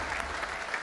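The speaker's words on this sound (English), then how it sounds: "Peter Gibson, give a round of applause." Brief burst of audience applause in the studio arena of the Robot Wars combat-robot competition, a dense patter of many hands clapping, moderately loud and steady.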